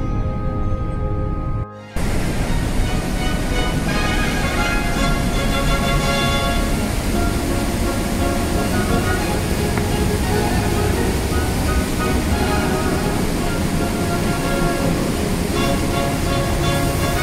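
Roaring water rushes through the Höllentalklamm gorge, a dense, continuous, loud torrent that fills the whole stretch without pause.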